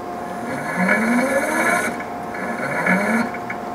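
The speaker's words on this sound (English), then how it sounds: "Use the keypad to jog the actuator down until your sample is in the desired position in the lower grip." A materials testing machine's actuator jogs down toward the lower grip in two short runs, each a close, steady mechanical whir with a rising motor tone and a pause in between.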